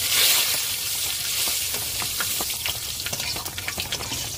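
Panch phoron spices sizzle and crackle in hot oil left over from frying fish, a steady close fry with small pops, no talk.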